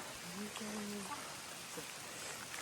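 Steady rain hisses evenly throughout on Raireshwar Fort plateau, with a brief low voice-like tone near the start.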